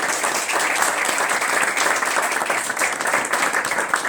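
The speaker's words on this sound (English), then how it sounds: "Let's give her a round of applause." A crowd at a Queens Jewish community leaders' endorsement event applauds Governor Kathy Hochul, giving sustained, dense, even clapping that holds close and loud for several seconds.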